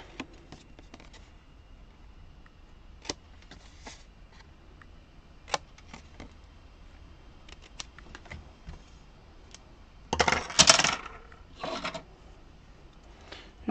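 Paper tabs are bevel-cut for a scrapbook folio, sparse light clicks and scrapes close by, with a brief louder rustling burst of paper handling near the end.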